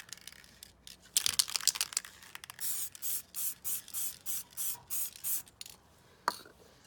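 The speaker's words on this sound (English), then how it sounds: "Try and spray the normal amount." An aerosol can sprays onto a chrome-faced badge during restoration, starting with a burst and then settling into a steady series of short, even spray pulses, heard up close with no talking.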